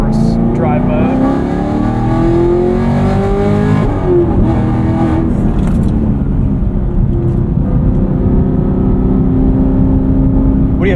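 Modified 2022 Chevrolet Camaro SS 1LE V8 engine revs and rumbles loudly up close, its deep tone rising and falling across the stretch, with a constant heavy low-end growl.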